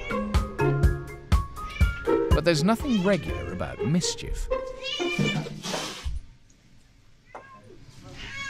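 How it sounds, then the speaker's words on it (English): A pet cat newly flown in at an airport animal reception meows repeatedly in rising and falling cries, close and clear, mixed with narration and people talking. "dealing with a more regular arrival, a pet cat"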